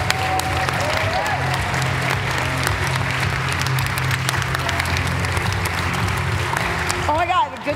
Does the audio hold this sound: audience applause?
yes